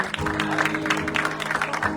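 Steady, dense clapping from a congregation at a church worship service continues throughout, loud and close.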